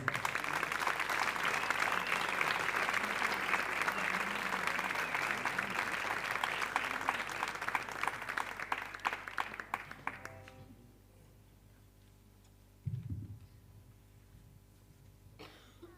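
A crowd at a big band concert applauds loudly for about ten seconds, the clapping fading out into quiet room tone, followed by a brief cough.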